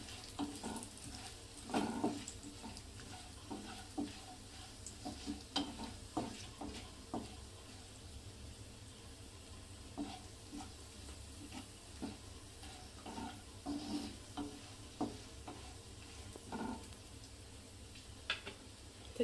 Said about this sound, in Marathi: काजू हे सर्व तेलामध्ये गॅस स्लो करून छान असं आपल्याला ह्याला भाजून घ्यायचं आहे